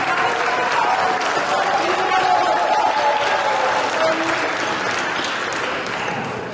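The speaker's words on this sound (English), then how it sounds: "stand up for a round of applause" Steady applause from a large crowd at a school athletic ceremony fills the space, with voices mixed in underneath, gradually tapering slightly toward the end.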